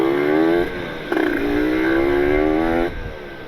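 A nearby Kawasaki Ninja RR motorcycle engine, overheating in traffic, revs and rises in pitch, dips as it shifts, then climbs again in a steady drone before easing off.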